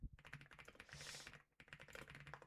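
Quick, soft clicking of a computer keyboard being typed on, a rapid run of keystrokes with a short pause, faint and close.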